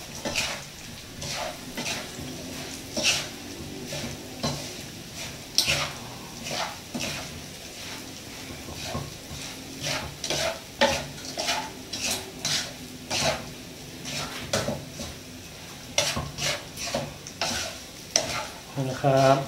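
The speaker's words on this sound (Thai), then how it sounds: "ช่วงนี้ก็ในเวลาผัดนะครับ" Chili paste with pork cracklings is stir-fried in a pan, giving a steady sizzle broken by repeated scraping stirs of a utensil against the pan, close and continuous throughout.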